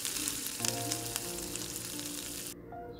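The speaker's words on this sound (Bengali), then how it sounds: "এখানে আমি 2 বাটি জল দিয়ে দিলাম ছোট বাটিতে" Hot spice masala in a pan sizzles loudly and steadily at close range after water is poured in, with a dense frying hiss that cuts off abruptly near the end.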